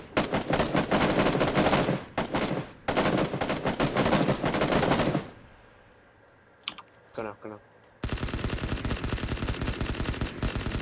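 Rapid automatic gunfire in PUBG, loud sustained bursts for several seconds, a pause with faint clicks and a voice, then another long volley of fast shots.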